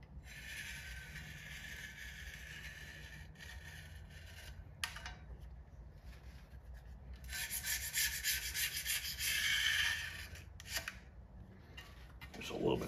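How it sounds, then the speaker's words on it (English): Hand sanding along the edge of an arcade control panel during a Solar Fox cabinet restoration, a steady rasping rub that runs continuously with brief pauses and swells louder toward the end. "There's a little bit on this edge here, which this I might just have to sand."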